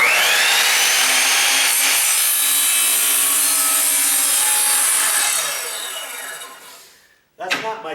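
A power saw cuts through a wooden piece, a loud sustained whine holding steady for several seconds before spinning down and fading, followed by a brief knock and rattle of handling.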